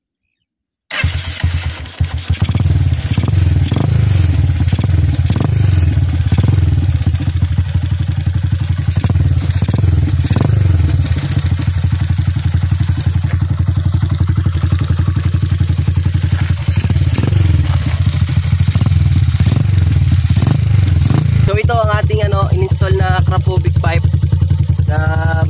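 A custom Honda TMX 125 scrambler with keyless start is cranked on the starter. The engine catches with a few clattering thumps, then settles into a loud, close, steady single-cylinder idle, with a voice briefly audible near the end.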